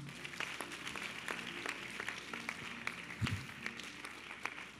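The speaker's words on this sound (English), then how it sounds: "Clap your hands." A church congregation claps hands in a sustained, fairly even rhythm, many sharp claps layered over a murmuring room, moderately distant and steady throughout.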